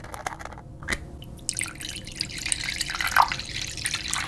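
A face mask machine dispensing liquid gives a thin, continuous watery trickle with scattered small drips and a gurgle near the end, fairly loud and close, with no talking.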